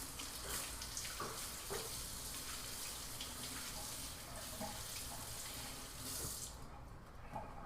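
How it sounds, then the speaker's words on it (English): A kitchen faucet runs in a steady, close rush of water as a cutting board or knife is rinsed after slicing pears, with faint clatter under the constant flow. "I'm gonna give this a quick rinse just because it's kind of pear juicy"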